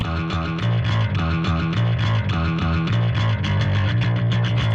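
High and low electric guitar tracks blend into one processed, cohesive rock tone, steady driving chords repeating in a loud, even rhythm without any talking.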